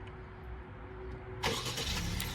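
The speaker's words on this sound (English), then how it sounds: "Car starts right up." A 2023 Acura Integra A-spec engine starts with a sudden crank and catch partway through, settling into a steady idle right after the quiet cabin hum.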